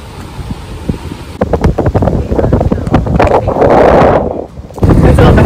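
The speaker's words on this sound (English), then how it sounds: "This camera just got blown over in the wind." Gusts of wind batter a camera microphone outdoors at a bar and grill, a loud buffeting rumble that swells and drops, with a burst of crackling handling noise in the middle.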